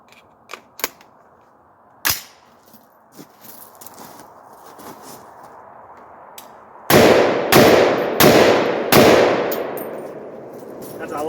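Sharp, loud rifle reports from a 20-inch-barrel AR-10 firing at mild steel targets, a few scattered shots early, then four heavy blasts in quick succession near the end, each ringing off into a lingering echo.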